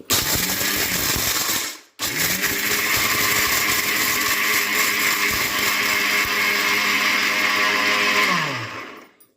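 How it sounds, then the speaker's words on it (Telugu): A mixer grinder grinding peeled peanuts whirs loudly, cuts out briefly, then roars steadily for several seconds before winding down. "అందులో పల్లీలు పొట్టు తీసిన పల్లీలు వేయాలి వేసి ఒకసారి మిక్సీ పట్టుకోవాలి"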